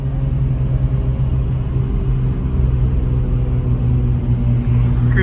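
A Datsun 280ZX on the road, its engine holding a steady loud rumbling drone from inside the car while cruising, with no talk.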